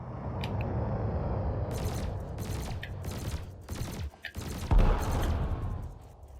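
Ship weapons firing in Elite Dangerous during a training run, with cannon and laser shots landing as a series of loud, broadband bursts over a steady engine hum, some bursts running close together.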